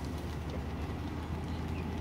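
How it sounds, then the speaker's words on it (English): A single-engine liveaboard boat's motor runs during docking, a faint, steady low drone heard from a distance with no voices. "There you can hear the engine a little bit."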